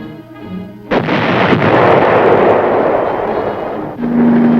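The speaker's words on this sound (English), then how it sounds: "Tanks were used to keep the roads open at strategic points, firing to keep the enemy off balance." Tank cannon fire from armored cavalry in the Vietnam War, a loud close boom that rolls into a long rumbling roar, followed by another heavy shot near the end.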